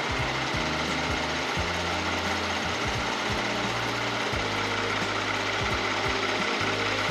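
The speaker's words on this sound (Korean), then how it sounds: "엔진 소리 일정하고 좋습니다" A Kia K9 3.8 GDI sedan engine idles with a steady, continuous rumble and a low periodic knock, constant in level throughout, recorded close in the engine bay with no talking.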